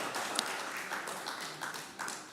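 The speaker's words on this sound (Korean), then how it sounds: "박수로 환영합니다." A congregation applauds during a Sunday service at Oakland United Methodist Church, giving a soft, scattered round of clapping that comes in a few uneven swells and stays fairly quiet.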